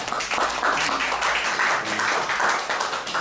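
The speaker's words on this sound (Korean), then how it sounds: "여러분 박수로 그렇게 결정하겠습니다." Audience applause at a community forum meeting held in a church hall, a steady wash of many hands clapping at once that keeps up evenly for the whole stretch, fairly loud and with no voices over it.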